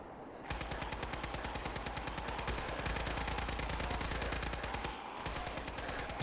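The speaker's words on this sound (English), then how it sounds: "The front of the building seemed to explode with the sound of gunfire." A long, rapid burst of automatic gunfire, loud and evenly paced, hammering for several seconds with a brief stutter near the end.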